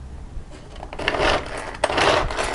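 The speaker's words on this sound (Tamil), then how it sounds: "இதில் சின்ன சின்ன பொடி பொடியாக கட் பண்ணுற மாதிரி தான் பிளேடு இருக்குது" A food chopper's blade finely chops vegetables for raita, making two short bursts of rapid clicking, crunching chops close up, with no talk.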